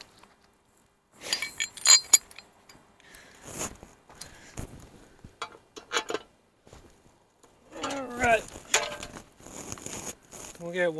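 Small metal washers and bolt hardware clink and tap in short scattered bursts while a strap is fitted on a cabover truck's air and fuel tank mounts, close by, with a few rustles and soft handling noises between the clinks.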